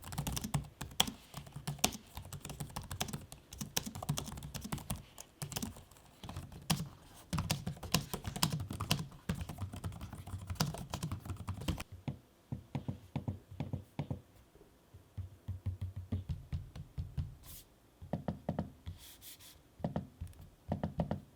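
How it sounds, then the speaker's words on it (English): Rapid clicking keystrokes on the keyboards of an HP Omen gaming laptop and an HP Envy x360 2-in-1 laptop, with trackpad taps between them, close and crisp, going quiet for a moment partway through. "Here is an audio sample of me typing on each keyboard and using each of the trackpads."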